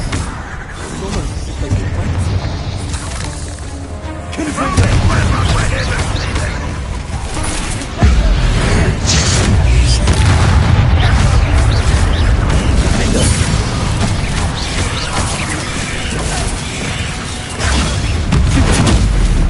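Explosions from the Confringo fire spell in the wizarding game Hogwarts Legacy, loud booming blasts and crackling bursts amid continuous combat noise, with voices shouting and talking throughout.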